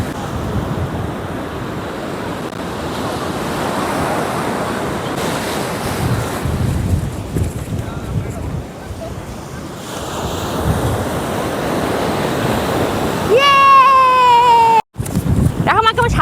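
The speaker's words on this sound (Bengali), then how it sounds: "কি সুন্দর সামনে এসে ঢেউগুলো ফেনা ফেনা হয়ে যাচ্ছে" Sea waves roll in and break into white foam on a crowded blue-water beach near Chilka Lake, a steady close roar mixed with gusty wind noise, with a brief high cry or whistle near the end.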